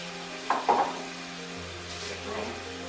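A sauce with alcohol sizzles quietly in a pan as it cooks down for Venetian chicken, a soft steady frying hiss broken by two brief stirring clatters near the start.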